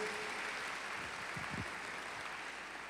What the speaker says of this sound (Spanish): Así es que les damos un aplauso a ellos también, con mucho cariño para todos ustedes.